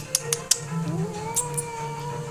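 A kitten gives a short, rising meow close by, with a few sharp clicks and taps around it in an otherwise quiet room.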